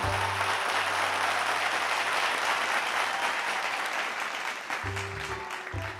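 Audience applause at a Bangla kids' show, a steady, loud wash of clapping that holds for about five seconds before thinning out, with a few low background tones near the end.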